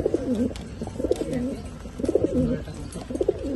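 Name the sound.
racing pigeons cooing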